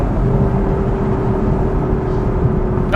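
A 2024 Lexus LC 500 Convertible's V8 engine drones loudly and steadily at high revs, a sustained in-car hum that reads like it sitting on the rev limiter, with no talk.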